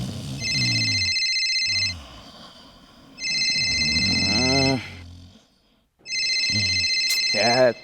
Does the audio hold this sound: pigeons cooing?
no